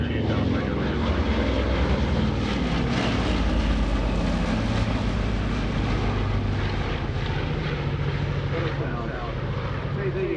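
A Boeing B-29 Superfortress runs its engines with a broad, steady droning roar and wind buffeting, while someone talks over it at close range.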